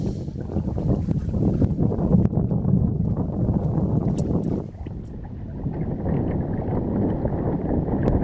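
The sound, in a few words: wind on the lake while fishing from a boat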